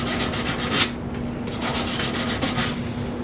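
Folded 120-grit sandpaper scrubbing wood into corners during refinishing, a close, steady run of rhythmic rasping strokes with a brief pause near the middle and no talking.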